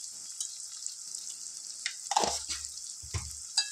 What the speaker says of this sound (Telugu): అల్లం వెల్లుల్లి పేస్ట్ పచ్చివాసన పోయేంత వరకు చక్కగా ఫ్రై